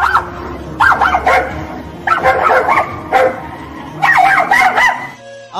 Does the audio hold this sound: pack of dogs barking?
yes